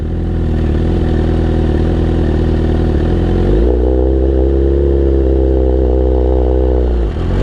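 A motorcycle launching from a stop during drag racing practice, loud steady engine roar close by that shifts pitch midway as revs change, then drops off at the end.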